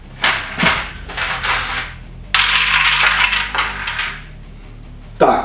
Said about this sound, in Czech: hodili jsme jednu kostku